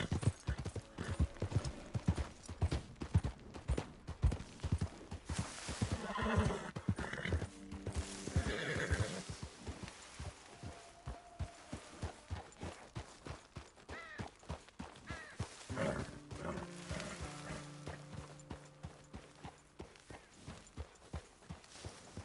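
A horse in Red Dead Redemption 2 clip-clops steadily with a regular, rhythmic hoofbeat, broken by loud, close whinnies and neighs partway through; no talking.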